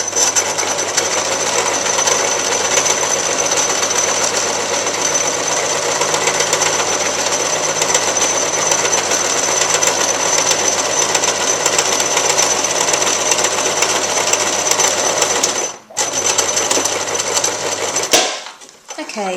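A sewing machine stitches a running seam on a kids' drawstring bag, a loud, steady, close mechanical whir that runs continuously before briefly stopping and restarting near the end.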